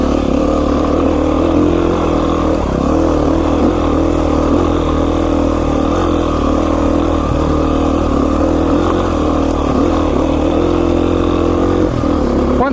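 Beta 500 RR-S street-legal dual-sport motorcycle ridden along a smooth singletrack trail in Idaho, its engine droning steadily and loudly close by for the whole stretch, with small throttle swells and no talk over it.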